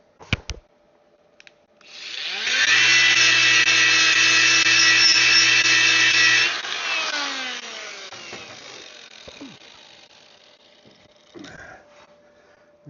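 Power tool, probably an angle grinder, scrubbing rust off a hard work-hardened steel plough disc: a loud, steady whine for about four seconds, then a fading spin-down and scattered clanks.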